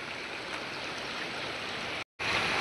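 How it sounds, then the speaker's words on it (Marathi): Water rushes steadily out of the ground into a stream bed, a continuous broadband gush, loud and close, broken by a brief silent gap near the end. "हे पाणी कुठून जमिनीतून येते पाणी"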